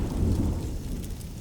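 Heavy rain pours in a steady wash while a deep rumble of thunder rolls through the first half, then settles into dense, continuous rainfall.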